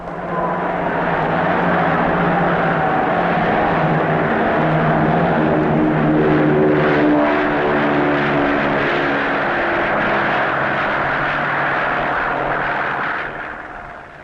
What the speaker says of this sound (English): A Shackleton will reconnoiter the area.